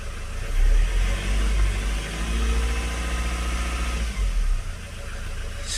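A Ford Transit MK8 2.0 diesel with a blocked DPF runs steadily at close range, the engine note rising and sagging as it struggles to rev, with no voices.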